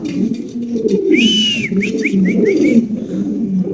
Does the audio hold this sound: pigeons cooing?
yes